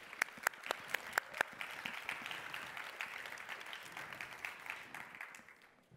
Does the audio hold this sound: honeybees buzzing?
no